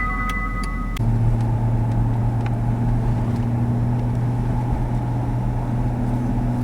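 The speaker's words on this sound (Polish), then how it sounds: "Czy teraz silnik pracuje już na gazie?" A car engine runs on LPG while driving, a steady loud hum with a low drone that settles after a click about one second in, with faint ticking heard early on.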